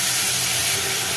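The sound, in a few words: sautéing chopped banana stem with onion in pan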